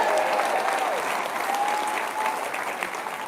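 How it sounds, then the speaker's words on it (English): Audience at a political town hall in California's 22nd district applauds steadily, a dense wash of clapping from a large crowd that holds at an even level throughout, with a few faint whistles over it. "Give yourselves a round of applause for turning out."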